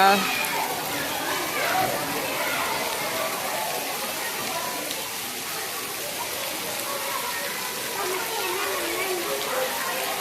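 Heavy rain in Rasipuram, a steady dense hiss of downpour filling the whole stretch, with children's voices and other people talking over it.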